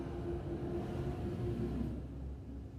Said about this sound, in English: a couple of big trucks.